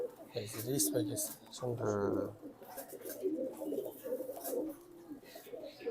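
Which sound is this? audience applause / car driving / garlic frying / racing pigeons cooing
racing pigeons cooing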